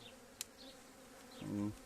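A low, steady buzz of honey bees hums close by, quiet and continuous, with one bee droning louder as it passes near.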